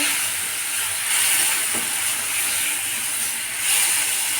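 Spice paste and chopped tomato sizzle steadily in a hot pan as they are stirred, a constant close hiss with slight swells and a faint scrape or two.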